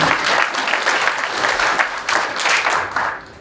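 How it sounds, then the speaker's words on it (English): An audience applauds honorees at a sheriff's office annual awards ceremony, producing a steady, full round of clapping that swells and eases over a few seconds. "We'll give them all a round of applause."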